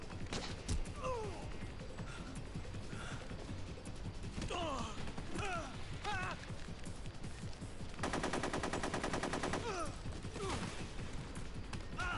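Gunfire in Metal Gear Solid 3, a steady bed of shots and game effects with a dense rapid burst late on, while someone talks over much of it.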